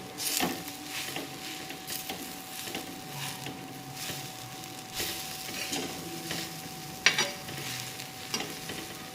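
Vegetables roast on a hot griddle in a home kitchen with a soft, faint sizzle and repeated scraping and stirring taps, while a steady electrical hum runs underneath.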